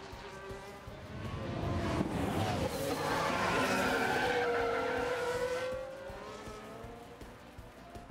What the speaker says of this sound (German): Oh, Sainz blockiert in Kurve 16.